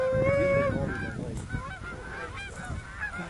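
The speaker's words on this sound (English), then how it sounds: "geese in your blind right now." Geese honk repeatedly near a hunting blind, a flock of overlapping nasal calls at close range, loud and continuous, with no talk.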